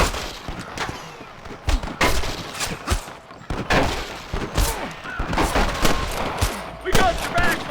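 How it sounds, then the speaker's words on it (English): Rapid gunfire crackles through a Red Dead Redemption western video game battle, with repeated sharp shots and bursts in quick succession, loud and close, and voices calling out between them. "I can hear more gunshots."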